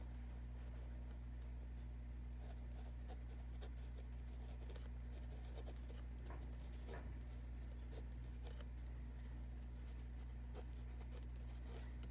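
A pen writes out a solution set for a Class 10 math exercise, producing faint, scattered scratching strokes over a constant low electrical hum, close and quiet.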